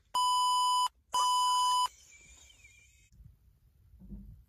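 Two loud, steady electronic beeps, each close to a second long, come from a pair of counterfeit AirPods, followed by a fainter descending chirp and low handling noise.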